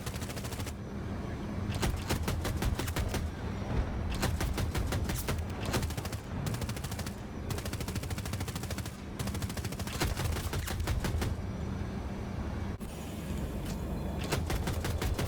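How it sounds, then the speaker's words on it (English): A stealth helicopter's 30mm cannon fires in Battlefield 2042, loud rapid bursts of heavy rounds repeating in several long strings with short pauses between, set against a constant rumbling engine and battle din. "So when you're using the 30mm cannon, you have to really aim for a specific target,"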